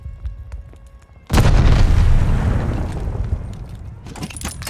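A grenade blast in Call of Duty: Vanguard multiplayer on a hardpoint match, a quiet lead-in broken by one loud, close boom that rumbles and decays over several seconds, with more clatter of combat near the end.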